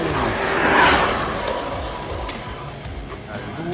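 A Carisma Audi radio-controlled car with a freshly glued tire runs at high speed, giving a steady, loud broadband whir and rushing noise that swells near the start and holds through the clip.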